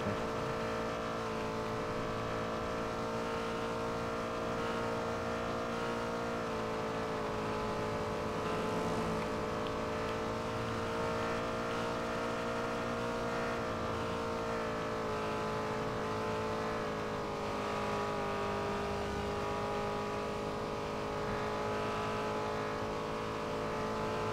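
A car engine drones steadily in a video game, holding a constant, fairly loud hum with slight shifts in pitch as the car drives along.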